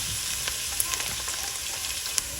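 Chopped garlic, about ten to fifteen cloves, frying in oil for chilli chicken, a steady, moderately loud sizzle with a few faint pops and light ticks, no voices.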